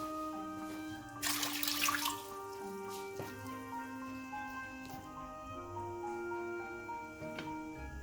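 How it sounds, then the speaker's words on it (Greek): Water being poured into a pot to cook a packet of whole-wheat pasta for bolognese, a steady watery pour and drip with a brief louder splashing burst, over a constant background hum. "Βάζουμε 5 ποτήρια νερό για να φτιάξουμε ένα πακέτο μακαρόνια"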